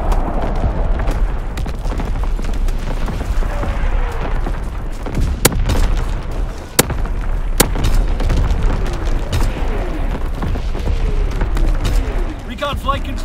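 Artillery strike in Call of Duty: WWII team deathmatch on Pointe du Hoc: sharp, loud shell blasts crack at irregular intervals amid a constant rumbling battlefield din, with scattered gunfire and voices running underneath.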